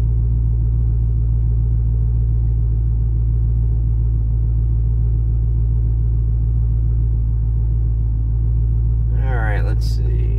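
A supercharged Dodge Hellcat car engine idling steadily, a loud, constant low rumble that runs the whole time, with a brief higher sound near the end.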